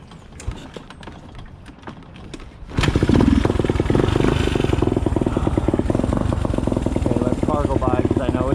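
A motorcycle with sticking clutch plates fires up loudly after a quieter stretch of mechanical clicking, then runs steadily close by with a dense, throbbing engine note.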